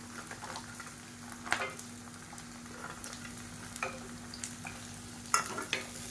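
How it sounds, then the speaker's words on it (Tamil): Pirandai and garlic sautéing in hot oil for thokku, a soft low sizzle with intermittent sharp scrapes and taps of a spatula stirring, fairly quiet and without talk. "இப்போ இந்த பரண்டை வதங்கட்டும்"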